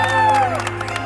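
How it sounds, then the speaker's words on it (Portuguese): Cheering and applause at a birthday celebration in São Paulo's east side, a brief burst of clapping and shouts from a gathered group over sustained background music tones. "Uma salva de palmas para o nosso homenageado"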